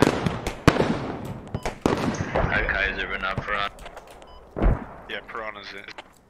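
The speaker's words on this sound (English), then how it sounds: "I'm taking fire" Video game gunfire rattles in sharp, close bursts, with rapid cracks and volleys early on and a heavy blast later, mixed with excited players talking over a voice chat.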